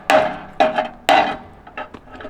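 Wrench banging on camper stabilizers at a campsite in Swallow Falls State Park, Maryland: three loud, ringing metallic strikes about half a second apart, then a run of quicker, softer taps, heard close with no talking.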